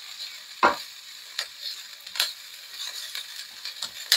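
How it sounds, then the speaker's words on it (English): Garlic being added to a sauteing pan gives a soft steady sizzle with a few sharp clicks and scrapes of stirring, fairly quiet and close, with no talking. "This has been sauteing, so now we're going to add in the garlic"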